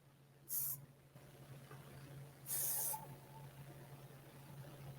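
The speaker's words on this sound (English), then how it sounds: "A little bit of hairspray." Hairspray is aimed at styled short hair in two short, close hissing bursts from an aerosol can. The first spray is brief and the second lasts about half a second longer, over a faint steady hum and no speech.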